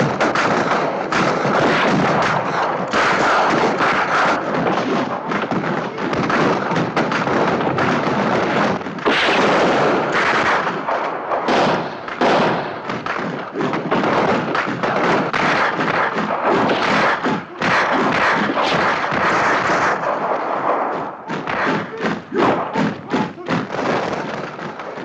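Soldiers in the 1964 film Zulu fire rifles in dense, repeated volleys, loud cracks and thuds piling up over a noisy battle din for the whole stretch.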